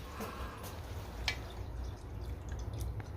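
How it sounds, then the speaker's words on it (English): Coolant draining from the radiator of a Suzuki VS750 Intruder motorcycle, faint irregular drips and trickles over a low steady background hum. "the water's draining,"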